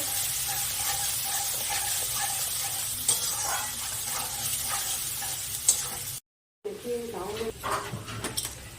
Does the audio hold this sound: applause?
no